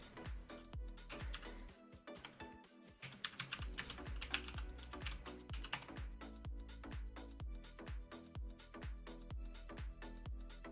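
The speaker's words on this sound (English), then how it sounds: "Should I just type it in the search bar?" Fast, steady typing on a computer keyboard into a search bar, a close and continuous patter of key clicks with a brief pause near the start and no speech.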